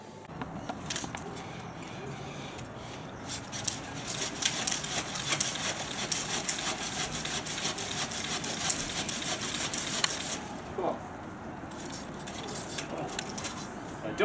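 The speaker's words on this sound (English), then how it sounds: "It's obviously a saw" A hand saw trims material in quick, rhythmic strokes for about ten seconds, close and fairly loud, then stops, with low background noise and no clear talk.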